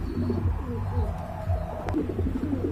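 Low, throaty pigeon coos repeat in a steady rolling rhythm, close by, with a brief faint rustle partway through.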